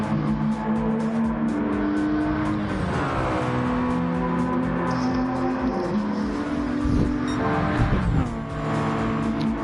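Race cars in a GTCA Championship Series race run nose to tail into a hairpin, engines roaring loud and close with shifting pitch as they brake and accelerate, a brief tire squeal near the end.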